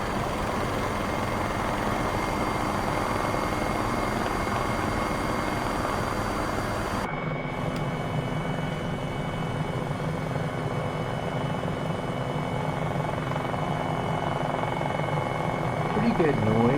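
Helicopter in flight, an MD 500E or Bell 407, a steady broadband rotor and engine roar that stays loud and constant throughout, with a voice talking over it.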